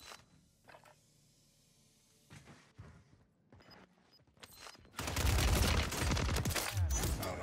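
Gunfire in the Warzone video game: a dense burst of rapid shots erupts loudly midway and continues as a sustained barrage, after quieter scattered game sounds and brief clicks.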